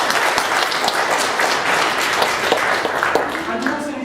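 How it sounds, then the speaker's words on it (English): Audience applause after a classroom counting activity, steady dense clapping from a crowd sustained throughout, close and fairly loud. "you also need to give yourselves a round of applause"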